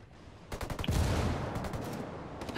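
Gunfire in the video game Ghost Recon Wildlands: after a quiet start, bursts of rapid automatic shots crack out close and loud, then continue as scattered volleys and a sustained rumble.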